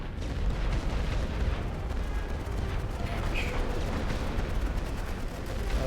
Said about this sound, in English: There's the enemy's barrage.